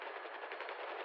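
Enemy machine-gun fire in a video game, a rapid, continuous burst of shots that is dense and fairly loud for about a second, with no talk.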